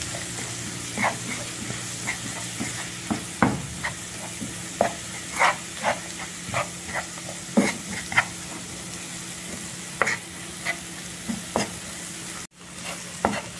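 Cabbage with yellow cornmeal, black pepper, seasoning and rib broth is stirred in a frying pan, giving a steady sizzle with repeated scraping strokes of the utensil at an irregular rhythm, close and fairly loud, with no talking.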